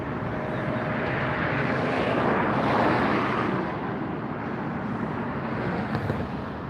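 Airplane arriving at LAX airport at sunset, a distant broadband engine rumble that swells gently midway and then settles, mixed with faint wind.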